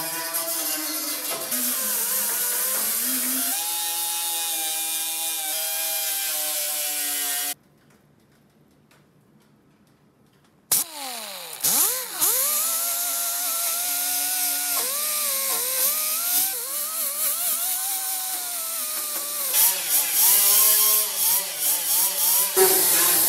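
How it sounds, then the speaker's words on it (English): Power grinder stripping green primer from the heater channel of a 1965 VW Beetle, a loud sustained whine with shifting pitch that stops briefly midway, then resumes and wavers steadily to the end. "we need to grind this green primer off of here so we can have a clean surface to attach to"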